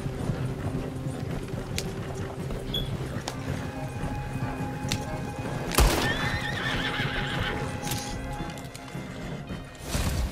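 Video-game horses whinny and snort over a steady clip-clop of hooves, with a loud neigh midway and some mechanical clicks in the background.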